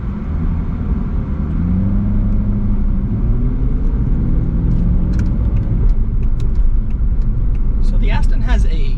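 An Aston Martin Vantage 4.7 V8 pulls away slowly in first gear in hot weather, its low engine rumble rising gently under a voice, with a few clicks near the end.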